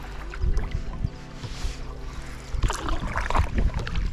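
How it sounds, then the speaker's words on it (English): Canoe paddling through the wetland channels of Wicken Fen, soft splashes and water swishes from the paddle strokes with light wind noise, close and steady. "We paddled through the Wicken Fen to head down to the National Trust Café"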